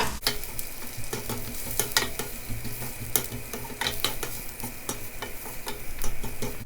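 Thinly sliced eggplant frying in olive oil in a pan, with a steady close sizzle and repeated clicks and scrapes from stirring, and no voices.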